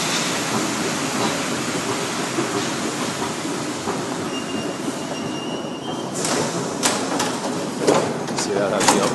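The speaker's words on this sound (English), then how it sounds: "So for now, just a boring train ride." A Paris metro train rumbles steadily along the rails, with wheel squeals and sharp clanks rising late in the ride and a voice talking over the steady noise.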